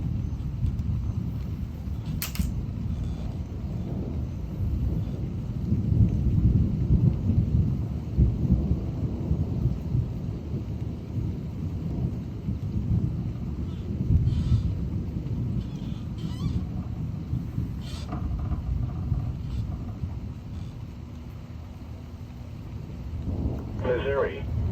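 Loud thunder rumbles through an intense summer thunderstorm with rain and wind in south central Illinois, a continuous low roar with swelling rolls and a few sharp crackles, while a person talks now and then.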